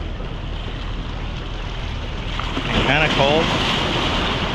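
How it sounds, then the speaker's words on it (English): Strong gusty wind and ocean surf rumble steadily at a surf beach, with wind buffeting the microphone; someone speaks briefly near the end. "so not only is it super windy"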